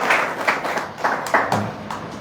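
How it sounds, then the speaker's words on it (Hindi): An audience claps to welcome a student at a ceremony honouring NEET and IIT-JEE success: a brief, loose round of hand claps, close and fairly loud, in uneven bursts. "सब लोग जोरदार तालियां बजा के मेरे बेटे का स्वागत करें"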